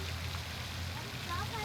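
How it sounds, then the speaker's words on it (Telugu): Water falls from a fountain in the middle of a park lake on an evening walk, a soft continuous patter and splash heard from a short distance, with some faint activity around it. "వాటర్ పడేది దాని సౌండ్ వస్తూ ఉంటుంది మంచిగా"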